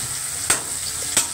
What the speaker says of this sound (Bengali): এই তেলের মধ্যেই পুরো ফ্রাই করব